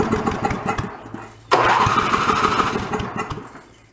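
A snowblower pulled from a junk pile cranks and fires, a loud catch into a rough, sputtering small engine that runs unevenly for a couple of seconds, close by with no talking.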